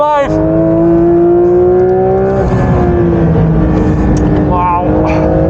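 A Porsche 992 GT3 RS accelerates hard on the Spa circuit, its engine note rising steadily in pitch, dipping briefly at a gear change, then climbing again, loud and close from inside the car.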